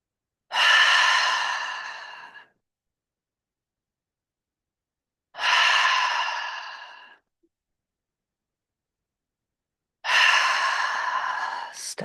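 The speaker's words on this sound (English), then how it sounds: "Exhaling. 3 rounds of the double inhale." Three long, airy breaths of a double-inhale yoga breathing exercise, evenly spaced with silence between them. Each is close and clear and fades out gradually.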